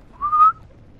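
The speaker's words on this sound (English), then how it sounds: "I probably shouldn't whistle." A single short whistled note from a person, rising slightly then holding steady, fairly loud and close, with quiet background and no talk.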